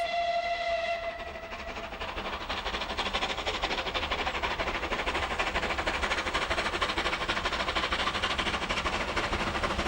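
A rebuilt Bulleid West Country Pacific steam locomotive, without its original casing or chain-driven valve gear, opens with a short whistle blast, then a loud, steady roar of exhaust and running train fills the rest.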